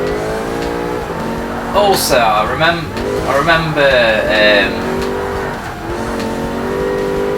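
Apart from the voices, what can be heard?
race car engine and tires spinning out in Forza Motorsport video game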